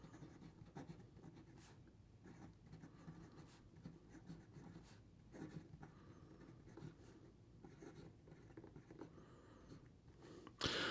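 A Visconti fountain pen with a fine nib writes on paper, making soft, continuous scratching strokes with brief pauses, faint and close, and no talking.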